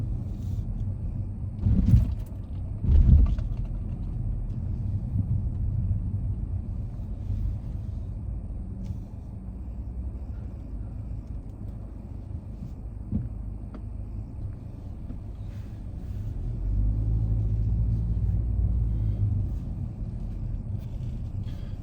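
Inside a moving car, a steady low engine and road rumble runs throughout, with two sharp thumps early on and a louder, heavier stretch of rumble near the end.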